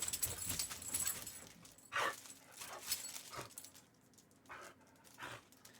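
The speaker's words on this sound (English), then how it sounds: "Oh, you're a good doggy." A pet dog named Charlie pants quickly and steadily up close, with occasional high whimpers breaking through the breathy rhythm.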